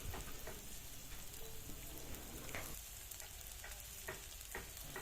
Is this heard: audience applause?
no